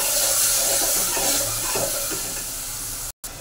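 Water splashed into a hot frying pan of sizzling food gives a loud, continuous hiss and crackle close by, broken by a short silence near the end.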